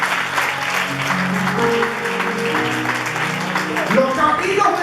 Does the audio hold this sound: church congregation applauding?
yes